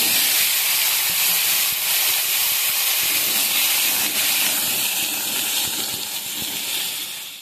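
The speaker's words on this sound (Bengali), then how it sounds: "ডিম ভাজা তেলে আমি কচুটা হালকা করে ভেজে নেব" Pieces of taro sizzle in hot oil left from frying eggs, a steady loud frying hiss with faint crackles throughout, close by and without speech.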